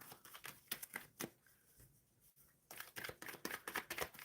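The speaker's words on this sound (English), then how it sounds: "Shuffling for Anjana" Tarot cards are shuffled close by in quiet, with a rapid flutter of soft riffling clicks that pauses briefly midway and then resumes.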